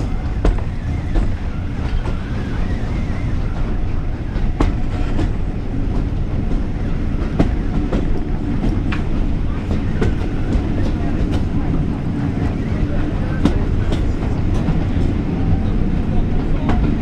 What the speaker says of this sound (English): We can see the two locomotives to good effect around this curve